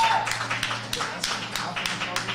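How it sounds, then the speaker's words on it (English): A small audience at a living gallery event gives a round of applause, with sparse, irregular claps standing out over a steady low hum and a murmuring room. "Can we please give another round of applause for Roche?"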